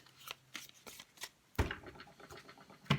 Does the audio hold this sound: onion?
no